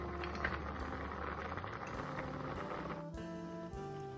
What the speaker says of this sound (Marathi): मायक्रोनी आपली छान शिजत आहे, जरा ट्रान्सलुसंट होऊ द्यायची।